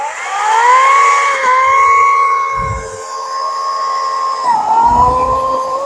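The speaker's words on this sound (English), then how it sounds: "this is going to be easy work for a chainsaw like this" Loud, steady engine whine of a Wild Badger 16-inch chainsaw running close by, its pitch dipping briefly twice as it bites into wood.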